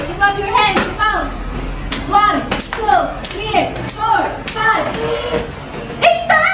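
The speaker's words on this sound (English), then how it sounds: "you clap your hands 8 times" Kindergarten children clapping their hands in a classroom, sharp claps in a rough counted rhythm mixed with children's and an adult's voices talking and counting over them.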